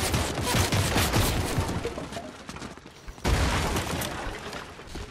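Dense, rapid gunfire fills a Fortnite match, sustained bursts of shots and booms layered throughout, briefly easing before a sharp loud resurgence near the end.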